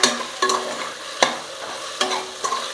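Medium tomatoes sautéing in oil in a pan for mushroom biryani, with a steady close sizzle broken by four or five sharp spatula scrapes and knocks at uneven intervals.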